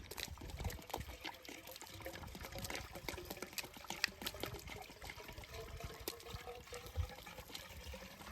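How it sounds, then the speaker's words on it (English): Water pours steadily into an irrigation pipe at its connection point on a farm to fill and prime it, a constant close splashing trickle with small gurgles throughout, no voices. "this is where I do my priming, or this is where I fill my water"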